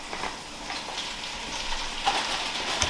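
Ground meat for taco soup browns in a pan, giving a steady close sizzle and crackle with faint scraping, and no voices over it.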